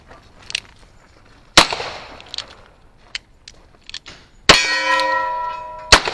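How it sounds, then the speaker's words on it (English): Pistol shots strike steel targets at a cowboy gunfighter match: sharp cracks, each followed by a metallic clang, about four impacts spread out, the loudest leaving a long bright ringing tone. "Let's see if I can make some more corrections and maybe hit a pistol target."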